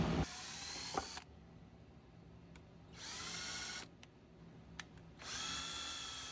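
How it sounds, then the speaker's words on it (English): A power drill bores holes in wooden boards for the spokes of a rustic wagon wheel, three close whirring bursts separated by quieter pauses with small clicks and handling knocks. "I've drilled holes into for the spokes, and I'm still drilling."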